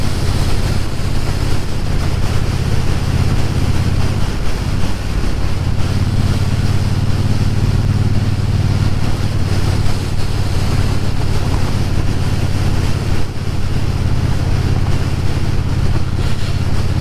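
A Triumph T120 motorcycle cruises a paved, winding road, its engine holding a steady low drone beneath a constant rush of wind, with no voices.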